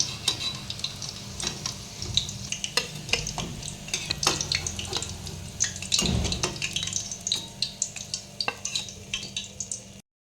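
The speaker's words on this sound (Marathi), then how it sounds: "आपली सेकंड सुद्धा व्यवस्थित तळून झालेली आहे" Andhra-style mirchi bhaji deep-frying in hot oil: a steady, close bubbling sizzle with frequent sharp crackles and pops, plus a few louder clinks and scrapes of a utensil against the pan.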